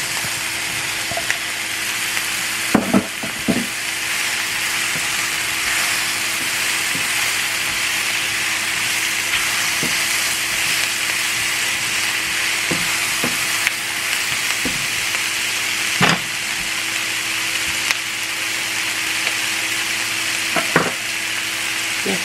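Green chiles sizzle steadily in a pan with chicken in a cream and mushroom sauce, a continuous close frying hiss broken by a few sharp utensil scrapes and clicks.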